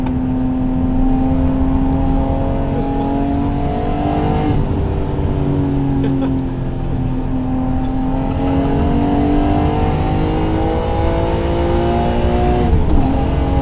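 A BMW M3 with about 178,000 miles is driven hard from inside the cabin. The engine revs loudly and climbs through the gears, with brief dips between shifts over a steady road roar and no talking.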